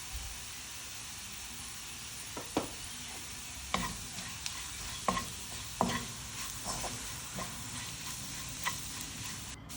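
Masala with coriander powder sautéed in a pan, a soft steady sizzle broken by a string of sharp spatula knocks and scrapes against the metal, close and unhurried, no talking.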